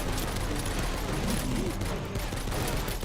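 Dense, continuous video-game gunfire fills the whole stretch at steady loudness, a rapid fusillade with overlapping shots and faint voices underneath.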